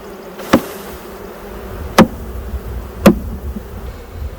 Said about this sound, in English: A lot of bees on that frame.